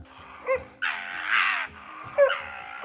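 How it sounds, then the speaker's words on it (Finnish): A hunting dog barks steadily at a raccoon dog during a Finnish moose hunt, with repeated sharp, yelping barks, some drawn out, close and loud against a quiet forest background. "Siellä oli täys haukku päällä."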